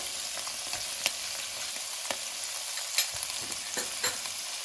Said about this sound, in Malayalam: എല്ലാം കൂടെ നമുക്കൊന്ന് വഴറ്റിയെടുക്കാം.